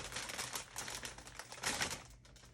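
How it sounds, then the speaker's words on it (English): Knife slicing grapes on a cutting board, a dense run of quick, close tapping clicks that swells in two busier bursts with a short lull near the end. "we're going to take a few grapes and cut those as well"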